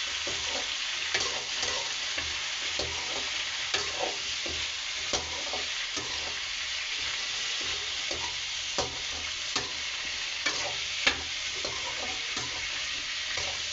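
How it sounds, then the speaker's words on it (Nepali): Potato slices sizzle steadily in a pan while a utensil scrapes and stirs at an irregular pace, soft clinks scattered throughout. "यसलाई चलाउनु मजाले।"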